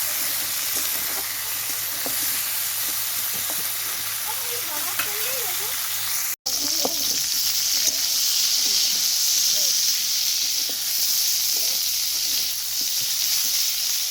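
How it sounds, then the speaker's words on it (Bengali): Cauliflower, potato and carrot pieces fry in hot oil in a pan, a steady close hiss and crackle with occasional stirring scrapes and a brief break midway. "তো এখানে আমি ফুলকপি, আলু আর গাজর সমস্ত কিছু তেল দিয়ে ভেজে নিচ্ছি।"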